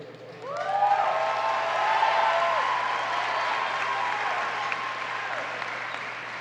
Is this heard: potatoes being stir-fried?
no